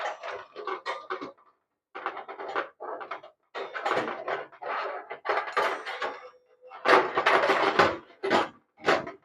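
Parts of a Coleman two-burner propane stove are packed into its case in repeated bursts of close rubbing, rattling and clunking, separated by short pauses.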